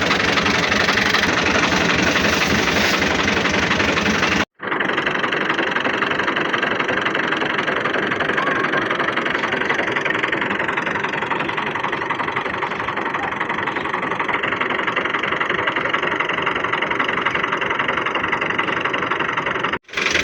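A tractor engine runs steadily at idle for most of the stretch, a continuous mid-low rumble with a brief cut partway through and faint voices in the background.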